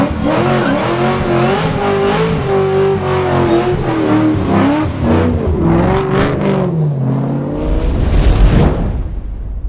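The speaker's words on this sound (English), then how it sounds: "Hang on to a burnout." A 2010 Ford Mustang GT500 fitted with a McLeod RXT 1200 clutch and steel flywheel does a burnout, its engine roaring and revving loudly and continuously while the tires squeal, then the roar breaks off near the end.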